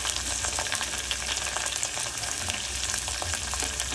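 Finely chopped onion and green chili frying in hot oil for egg fried rice, a dense, continuous sizzle with crackling pops throughout, close and loud, without any voices.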